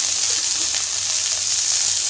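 Cauliflower frying in a pan with spices, an even, continuous hissing sizzle without any voices over it.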